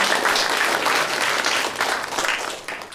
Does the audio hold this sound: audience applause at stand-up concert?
yes